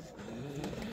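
Pigeons coo softly on a fog-covered rooftop, a continuous low burbling call heard alone for a moment.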